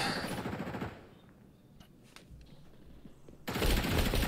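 Video game gunfire from a first-person Call of Duty style shooter bursts loudly at the start and again at the end, rapid automatic volleys framing a quieter stretch with a few scattered distant shots.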